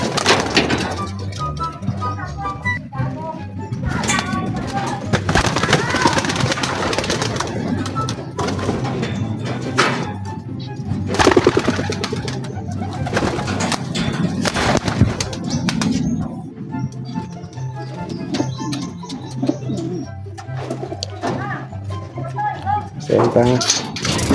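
Racing pigeons and breeder hens at a loft coo softly and steadily beneath near continuous talking, with a few sharp cracks and knocks mixed in.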